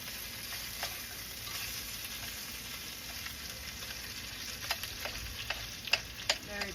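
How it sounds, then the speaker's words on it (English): Pork ribs fry in melted shortening with a steady, bright sizzle, joined near the end by a few sharper pops and crackles. "So I'm gonna put the shortening in so it fries."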